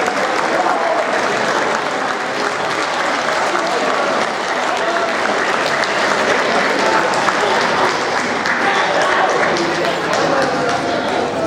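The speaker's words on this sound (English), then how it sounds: "Let's give them a round of applause." Sustained, loud applause from a school audience honoring standing eighth-grade honor students at an awards ceremony, a dense steady roar of many hands clapping throughout, with faint voices mixed in.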